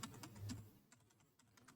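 Rapid keystrokes on a computer keyboard as a study question is typed, a dense cluster of clicks at first thinning into scattered taps, close and fairly quiet.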